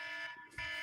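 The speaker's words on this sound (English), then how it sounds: "I know it sounds like an air raid siren. That's our alarm." Home alarm sounding like an air raid siren, a faint steady wailing tone that dips briefly and then resumes.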